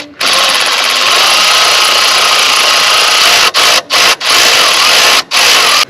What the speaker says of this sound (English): grab my cordless ratchet, and we're going to see if that nut will start.